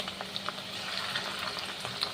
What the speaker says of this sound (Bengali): ডিমটা যখন ভাজা করবে তখন কিন্তু সাদা তেলেই ভাজা করবে